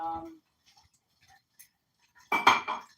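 Kitchen dishes being put away: faint ticks and clinks, then a louder cluster of ceramic and cutlery clatter near the end, preceded by a brief voice.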